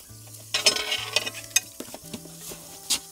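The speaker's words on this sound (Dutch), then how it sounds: "We braden deze eend op het 2-pits gasfornuis van Kadak." Duck frying in a pan on a two-burner Kadak camping gas stove, steady sizzle with bursts of stirring and scraping of a utensil against the pan, close up and without talk.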